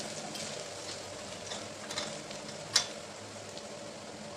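Chopped onion frying in a pan for a Marathi dill leaf vegetable dish, giving a steady soft sizzle with occasional scraping stirs and a sharp clink of the utensil against the pan.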